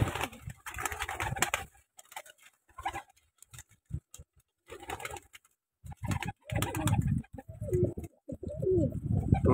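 Captive pigeons held for sale cooing up close, soft repeated coos mixed with wing patter and shuffling, with short quiet gaps between bursts.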